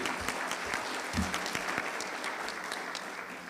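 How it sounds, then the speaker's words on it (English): Steady applause from a crowd, a dense wash of clapping that carries on evenly throughout without pause. "How about a nice round of applause for her again, please?"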